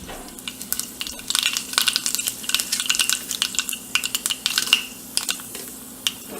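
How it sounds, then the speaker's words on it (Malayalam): Mustard seeds spluttering in hot oil in a pan while tempering a Kerala moru curry: dense, sharp crackles and pops burst close up, then thin out into scattered sparse snaps, with faint stirring and no talking. "കടുക് പൊട്ടിച്ചിടുക."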